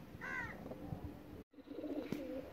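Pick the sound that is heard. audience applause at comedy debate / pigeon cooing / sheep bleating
pigeon cooing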